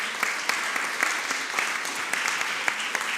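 Audience applause at a round-table discussion on women in digital revolutions, a steady patter of many hands with distinct individual claps popping out, moderately loud and without speech.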